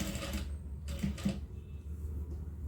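A sewing machine stitches piping onto a blouse in a few quiet, short bursts of mechanical whirring close by, with no talk.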